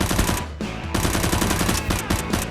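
Rapid, continuous automatic gunfire from a battle against a boss enemy, dense and loud with a brief dip early on, then sustained bursts of shots throughout.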